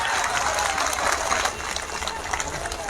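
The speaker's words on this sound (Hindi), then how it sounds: "जोरदार तालियां।" A crowd at a women's political party conference claps in loud, dense applause that carries on steadily for the whole stretch, with a slight dip midway.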